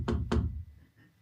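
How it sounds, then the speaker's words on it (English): Two sharp, close knocks on a door during a stage play, quick and solid, then a faint quiet tail. "We're interrupted by a knock at the door."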